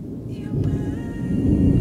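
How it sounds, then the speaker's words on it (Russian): Thunder rumbling low and dull, building gradually louder over a couple of seconds, heard from a distance without talking. "Это гром."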